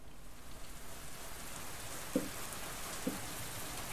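Steady rain falls on a surface in a visual novel scene, a continuous even hiss with a couple of faint drops or taps standing out near the end.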